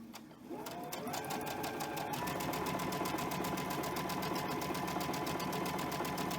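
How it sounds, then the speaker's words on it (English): A sewing machine runs steadily at speed while stitching quilt fabric, producing a close, even, rapid mechanical chatter that hums on without pause. "I'm just about to lose my 1/4 inch line on my sewing machine"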